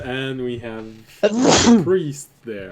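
A single sharp sneeze bursts out between stretches of talking, loud and close, followed by more speech.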